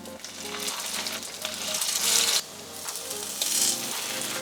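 Quinoa, tuna and potato patties frying in olive oil in a pan, a steady loud sizzle that swells as more patties are added, with no talking.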